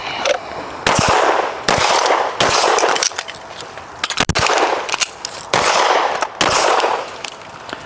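Rifle fired in repeated bursts of sharp, loud shots at a target on a shooting range, the reports coming in clusters with short pauses between them.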